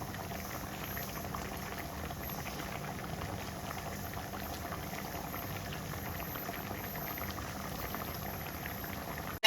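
Egg gravy (muttai kulambu) simmers in a covered pot with a steady, faint bubbling and hiss that stays even and unbroken, heard alone without voices.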